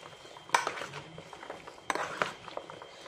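Clattering of utensils tossing a small vegetable salad seasoned with white pepper in a bowl, two brief bursts of clinks and scrapes close by, faint and otherwise quiet.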